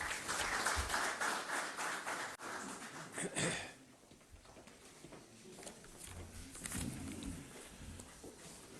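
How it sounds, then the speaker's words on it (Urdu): An audience at a Pakistani government event applauds the Prime Minister at the inauguration of houses built for flood victims. A dense, noisy wash of clapping is loud at first, then drops to a quieter, rumbling crowd murmur. "آپ سب کی بھرپور تالیاں۔"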